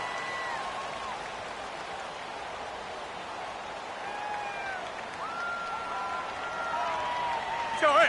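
Crowd noise in an American football video game forms a steady, muffled stadium roar with whistling tones and rising toward the end, under a commentator's talk.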